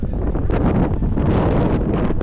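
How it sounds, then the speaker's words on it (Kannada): Strong wind buffets the microphone in a steady, loud roar, with gusty rumbling throughout and no voices. "ಗಾಳಿ ಮಾತ್ರ ಸೈಕಾಗೈತೆ"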